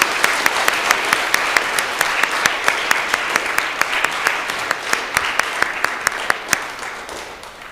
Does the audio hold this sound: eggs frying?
no